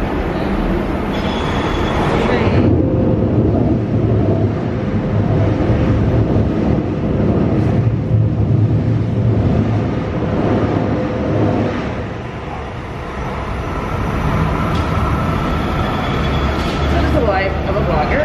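A train rolls past on New York City rail, a loud steady rumble with wheel squeal and clatter filling the whole stretch, close by, with some talk mixed in.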